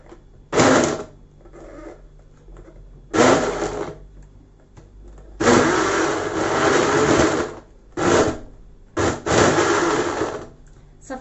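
Blender whirring through a flourless cake batter, running in five loud bursts of varying length separated by short pauses.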